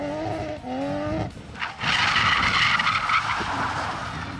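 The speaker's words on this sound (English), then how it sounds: "This beast gets away from Andrew Costin Hurley on the Springvale stage." Rally car skidding hard on a gravel stage, tyres scrabbling in a loud sustained skid after a brief engine note, with no talking.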